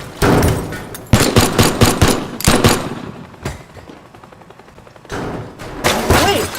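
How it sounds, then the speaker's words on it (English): Loud automatic gunfire in the voxel video game Teardown, with close bursts of rapid shots and thuds, a quieter lull in the middle, then another burst near the end. "Let's try to shoot at the..."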